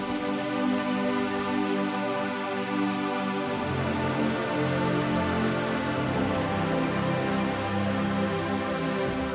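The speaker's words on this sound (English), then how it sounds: "I love the sound of Ableton's kind of default reverb." Sustained ambient synth pad soaked in Ableton Live's default reverb, with layered held tones shifting chords partway through and a soft, continuous wash with no percussion.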